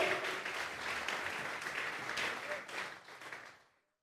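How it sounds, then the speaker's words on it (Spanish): A church congregation applauds in a steady, dense wash of clapping, with faint voices mixed in, before it fades out and stops. "Vamos a darle una ofrenda de palmas al Dios de la gloria"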